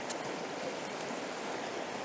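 Water pours over a small river cascade beneath overhanging trees, a soft, steady rushing hiss heard from a short distance, faint and unbroken.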